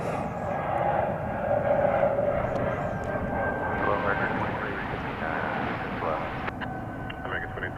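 A Turkish Airlines airliner takes off from the runway at DFW Airport, a sustained distant engine roar that rises and holds, with a faint radio voice intermittently over it.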